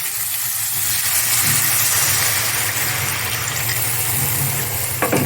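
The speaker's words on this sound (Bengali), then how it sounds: "এবার আমি পরিমাণ মতো জল দিয়ে দেবো।" Water poured into a hot pot of new potatoes for a Bengali fish curry, a loud steady sizzling hiss of steam that fills the whole moment, close up, with a small clatter near the end.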